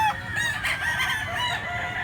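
A green-legged gamecock offered for sale in Cebu crows loudly and up close, one sustained cock-a-doodle-doo running for about two seconds with no voices over it.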